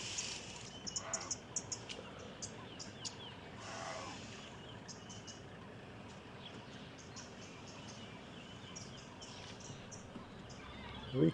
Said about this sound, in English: We can hear many different birds, Terry.